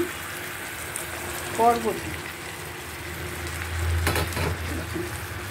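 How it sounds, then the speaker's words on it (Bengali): Long beans tipped into hot oil in a pan, a close broadband sizzle of frying that swells near the end, with a voice briefly heard. "বরবটি দিয়ে দিলাম। খুব সুন্দর করে বরবটিটা দিয়ে দিলাম।"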